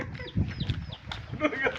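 A rooster clucks a few times nearby, short throaty calls mixed with faint background voices.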